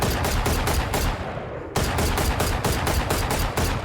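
Rapid, continuous bursts of Guardian rifle gunfire in the Valorant video game, loud and close, with a brief pause mid-way before shooting resumes at a steady rhythm.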